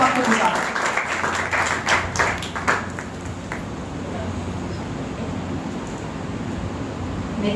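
Applause from a church congregation at a Sunday gathering, a dense burst of clapping that is loudest in the first few seconds, then thins and fades into a steady room murmur.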